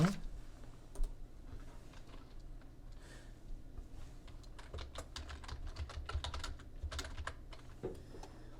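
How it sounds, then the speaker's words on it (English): Text being typed on a computer keyboard, quiet close key clicks in irregular bursts and runs of taps, with no talking. "So I'm going to type in the text here for you to see."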